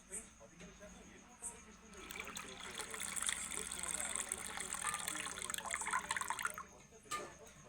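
Water is poured off separated cream while homemade ghee is made, trickling and splashing steadily for several seconds at close range, quiet and soft, with a voice speaking around it.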